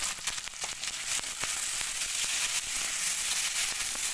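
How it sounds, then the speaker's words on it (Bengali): Ginger paste sizzling as it fries in a pan, a steady loud crackling hiss with small pops running throughout, with no voices over it. "একটু কষে নেবো আদা বাটা"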